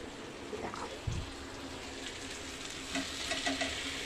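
Shrimp fry in a pan for potol chingri, giving a steady close sizzle of hot oil broken by occasional soft scrapes and knocks as they are stirred, with no talking.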